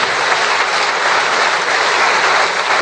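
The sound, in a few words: audience applause at pastors' graduation ceremony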